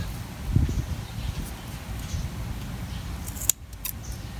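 Scissors snip through the flower clusters of Wave petunias, with a couple of distinct crisp cuts amid soft rustling of stems and leaves, close by and without talk.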